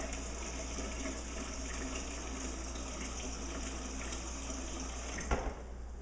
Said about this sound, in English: you might have a stronger water flow than you did